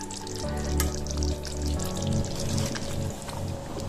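Dried turkey berries (sundavathal) dropping into a boiling tamarind gravy in a Tamil kulambu, with a steady close bubbling and frying crackle running throughout, no voices.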